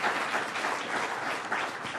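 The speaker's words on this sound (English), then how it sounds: "I'll give him a round of applause." Applause from an audience at a New York City congestion pricing announcement: a dense, steady wash of many hands clapping, moderately loud, with no voices over it.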